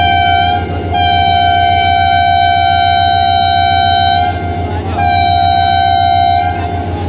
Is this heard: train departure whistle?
yes